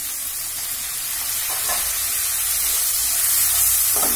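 Spicy prawn spice paste with ground green chillies sizzles loudly in a pan after a splash of water is added, a dense steady frying hiss that builds slightly, with faint stirring scrapes.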